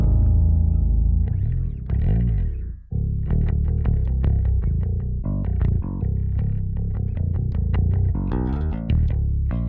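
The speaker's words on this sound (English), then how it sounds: "We're starting just from the raw bass, which sounds like this." Raw, unprocessed bass guitar for slam metal plays a choppy riff of dark, low picked notes. The notes are close and dry with short gaps between them, and no one talks over it.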